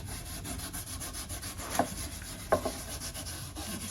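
Superfine steel wool soaked in shellac rubs back and forth over oak-style furniture in a rhythmic, gritty scrubbing, close and steady with a couple of sharper knocks.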